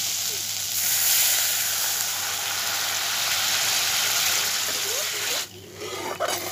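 Water poured onto well-fried masala and tomato paste in a pan for egg curry sets off a loud, steady steaming sizzle that holds for about five seconds, then cuts off abruptly into a quieter simmer.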